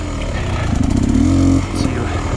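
Beta dirt bike engine revving at a demo-day trail ride, a rough mid-pitched engine note rising and falling briefly, close by, under a rider's talking.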